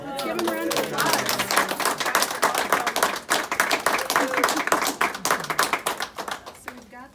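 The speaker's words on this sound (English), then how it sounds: "Let's give them a round of applause." A round of applause from a gathered group fills the space, steady dense clapping with voices and a few whoops over it, tapering off at the end.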